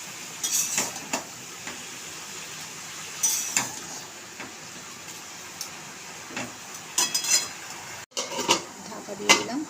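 A lid is set over a cooking pot of Malabar spinach (pui shak), giving a few faint metallic clinks and scrapes spaced out over quiet kitchen background.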